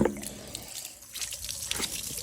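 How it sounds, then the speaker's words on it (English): A glove rinsed under running tap water in a sink, with steady close splashing and gushing throughout, the water hitting the glove and basin unevenly. "I'm gonna rinse this glove off"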